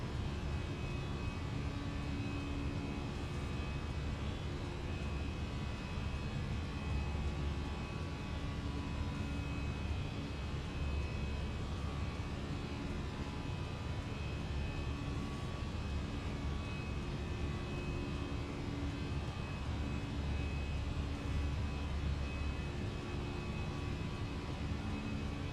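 Airliner engines during climb in Microsoft Flight Simulator 2024, an easyJet flight, heard as a steady, moderately quiet broadband roar with a faint constant whine, unchanging throughout.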